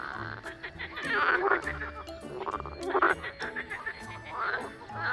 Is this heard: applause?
no